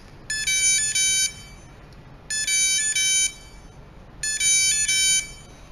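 An RFID locker lock gives three evenly spaced bursts of bright electronic beeps, each a quick double tone, clear and close over a quiet background.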